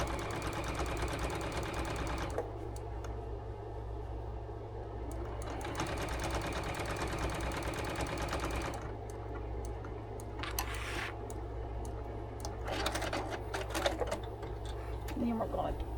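A sewing machine top stitches the inside seam of a Christmas stocking, whirring in steady bursts with brief pauses between runs, close and moderately loud, with some light ticking handling sounds.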